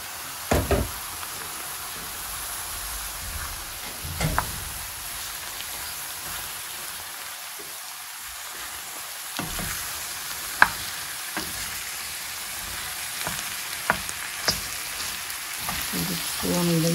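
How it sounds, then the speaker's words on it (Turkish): Mushrooms and onions sizzle in a pan with a steady, soft frying hiss, broken by occasional scraping taps as they are stirred, close and fairly quiet with little talk. "Soğanıyla iyice güzelce karıştırayım."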